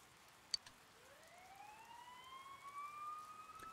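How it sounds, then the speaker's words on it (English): Sirens in the video game Persona 4 Golden, faint rising wails sweeping upward and holding steady, distant and quiet, preceded by a single soft click. "You hear sirens nearby."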